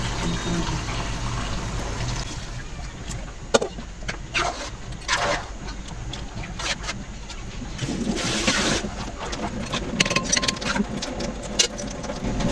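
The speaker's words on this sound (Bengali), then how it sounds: "এক কেজি চাউলে আমি দুই কেজি পানি গরম পানি দিয়ে দিলাম" Hot water pours and gushes steadily into a pot of rice for beef biryani for several seconds, a continuous splashing rush with occasional louder surges and clinks.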